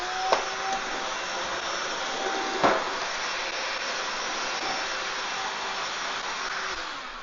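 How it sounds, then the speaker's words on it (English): A Makita cordless vacuum cleaner runs with a steady high whir while sucking up debris, with a couple of brief knocks and rattles from pickup, close and continuous, no voices. "Wow, that's got really good suction too."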